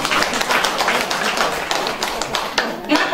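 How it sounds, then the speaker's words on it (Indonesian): Audience clapping at an outdoor campaign rally for a district council candidate in a village, a dense, steady patter of many hands sustained throughout, close and fairly loud. "Tepuk tangan dulu."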